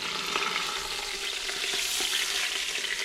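Pot roast searing in an Instant Pot, a steady, dense sizzle with light crackles and occasional scraping or stirring clicks, close and continuous, with no voices.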